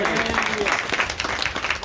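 Church congregation applause, a brief burst of clapping from a crowd mixed with a voice speaking over it.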